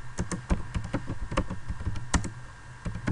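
Keystrokes on a computer keyboard as a package install command is entered, a quick uneven run of close, crisp clicks with a steady low hum beneath.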